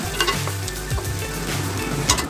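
Onions and green chillies frying in oil for mushroom biryani, with a continuous loud sizzle and repeated spoon scrapes and clanks against the pan, heard close up.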